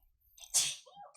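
A single sharp sneeze bursts out on a podcast, preceded by a brief intake of breath and trailing off quickly, close and alone.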